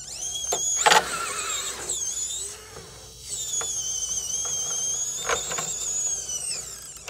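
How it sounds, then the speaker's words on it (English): An RC micro servo winch winding in on a model truck, a thin whining motor tone that holds and shifts pitch, with sharp clicks and bumps nearby and a brief pause midway. "Going to winch in and drive."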